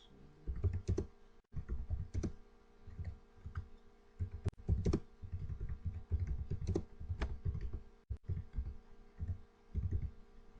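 Keys on a computer keyboard being typed steadily in irregular close bursts of clicks, with brief pauses between runs, alone and fairly near.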